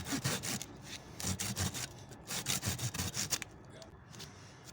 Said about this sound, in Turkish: ikinci asmamızı da kesiyorum